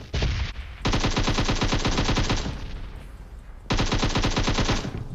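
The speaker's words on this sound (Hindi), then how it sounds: "आगे गोली गोली भी चल रही है ना?" Two long bursts of rapid automatic machine-gun fire from a DP-28, loud and close, with a brief pause between them, in the video game PUBG Mobile.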